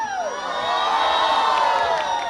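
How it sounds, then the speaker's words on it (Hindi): Wedding guests at a sangeet in Pune shout and cheer together, a loud, sustained crowd roar with whoops that holds for a couple of seconds. "अब मैं चाहता हूं पहले वो लोग चिल्ला के दिखाएंगे जिनको लगता है कि तनाया लकी है"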